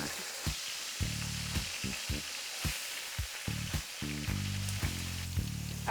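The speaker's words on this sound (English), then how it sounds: "I'm gonna use the oil that I roasted the tomatoes in because I already have it. And then I'll add a little bit of that garlic in there" Garlic frying in oil left from roasting tomatoes, giving a steady, bright, crackling sizzle that runs throughout, with soft low knocks from stirring or handling underneath.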